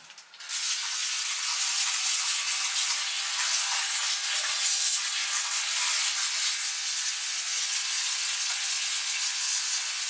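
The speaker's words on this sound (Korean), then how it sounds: "수태봉 물 줄 때는 딱 거기만 조준을 해서 정확하게 주고 있습니다." A sprayer watering sphagnum moss poles on houseplants makes a loud, steady hiss that holds unbroken for about ten seconds, close by and with no voices.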